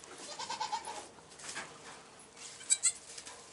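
Nigerian Dwarf goats bleat in the kidding pens, a few wavering cries nearby and a sharper pair of calls near the end, over quiet barn background.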